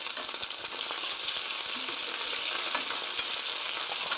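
Spicy seasoned chicken pieces sizzle and fry steadily as they are turned over mid-cooking, a dense continuous crackle with faint stirring clatter and no talk.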